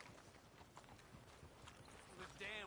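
Faint horse hooves clip-clop at a steady walking pace in the Red Dead Redemption 2 video game, low in the mix under wind and talking voices.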